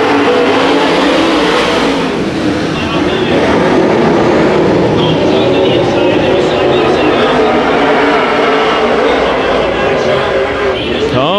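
Race cars roaring around Ocean Speedway during a heat race, a loud continuous wall of engine noise with cars rising and passing, and an announcer's voice partly audible over the din.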